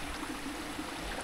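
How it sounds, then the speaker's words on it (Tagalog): Floodwater from a river rushes into a fish pond during a typhoon, a steady, broad roar of flowing water that stays constant and fills the whole short stretch without any talking. "pumapasok na yung tubig galing sa ilog"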